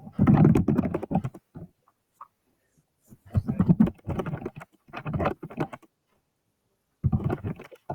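Notes being typed on a computer keyboard, heard as close, brisk bursts of key clatter separated by short pauses, loud and alone.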